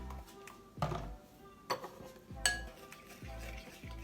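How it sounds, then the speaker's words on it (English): Metal utensil clinks and scrapes against a bowl while BBQ rib rub ingredients are stirred together, a few sharp knocks over a soft, steady mixing rustle, close and fairly quiet. "We're going to mix it all together."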